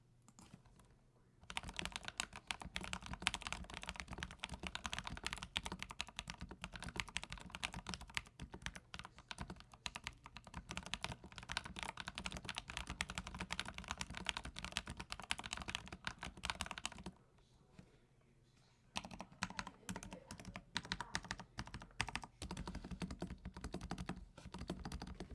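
Blue mechanical keyboard switches lubed with Vaseline are typed on steadily, a dense run of clicky keystrokes close to the microphone that stops briefly near the end and then resumes.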